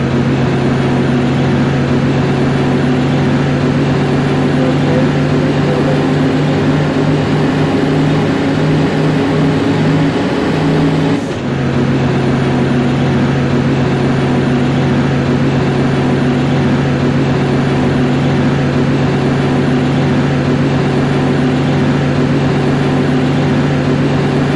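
Mobile crane engine in the Bus Simulator Indonesia driving game: a steady, loud, synthetic low engine drone with even harmonics that runs throughout, dipping and shifting pitch briefly partway through, with no talking.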